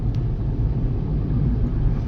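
Car driving along a highway, a steady low road rumble heard from inside the vehicle, continuous and fairly muted with no talk.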